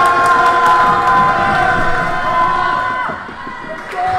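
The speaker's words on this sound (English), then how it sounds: "You can definitely hear the crowd is going for a lot. There's a lot of noise here." A crowd at a boys' high school basketball tournament game cheers loudly after a basket, a thick roar with sustained yells that dips briefly near the end before swelling again.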